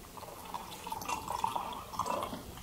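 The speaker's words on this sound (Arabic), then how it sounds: "بنضيف عليهم مي دافية أقل من نص الكاسة بشوي" Warm water is poured into a glass, filling it to just under half, as part of making homemade beer. It makes a faint, soft trickling and dripping with no voices.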